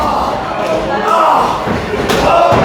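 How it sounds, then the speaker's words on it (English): A kick lands with a dull thud in a live independent wrestling match, a couple of sharp slams in quick succession over a commentator's voice and faint crowd noise. "And that is a thudding sound there."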